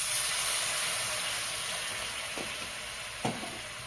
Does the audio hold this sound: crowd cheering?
no